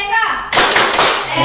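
Children clapping a rhythmic PPK clap chant in a classroom, a sudden burst of loud, dense hand claps after a short spoken lead-in, with young voices mixed in.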